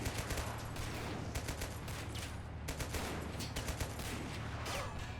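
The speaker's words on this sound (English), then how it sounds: "They may have shot at my machine gunner." Distant bursts of machine-gun and rifle fire from a World War II battle in the video game Men of War: Assault Squad 2, with rapid volleys of cracks over a low rumble of battle.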